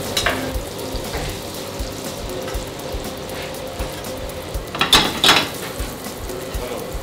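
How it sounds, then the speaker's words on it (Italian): Veal cutlet with lemon fries in hot butter in a pan, giving a steady close sizzle with a few louder spattering crackles midway and light scraping, with no talk over it. "lo facciamo soffriggere da un lato e dall'altro"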